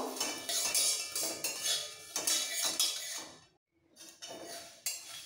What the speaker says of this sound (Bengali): এবার এই মশলাটাকে খুব ভালো করে একটু ড্রাই রোস্ট করে নেব